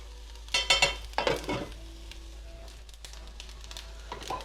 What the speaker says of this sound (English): Give the sauce a stir here.